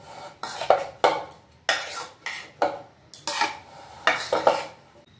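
Chilli powder and ginger-garlic paste being mixed in a pan, heard as a run of loud metallic scrapes and clinks from a spoon against the pan, coming in bursts about every half second up close with no voices.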